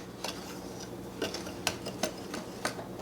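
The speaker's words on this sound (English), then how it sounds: "I'm going to whisk that together" A whisk stirring baking powder, salt and baking soda in a bowl for sourdough cornbread, heard as sparse light ticks and scrapes against the bowl, quiet and irregular.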